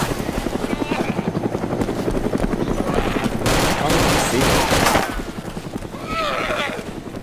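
Black Hawk helicopter in the DayZ Overpoch game, its loud steady rotor thump and engine drone filling the whole stretch, with bursts of gunfire and a voice shouting briefly over it.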